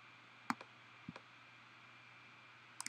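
Several sharp, quiet computer mouse clicks while working in Photoshop, spaced irregularly with a quick double click at the end, close and alone over faint room hum.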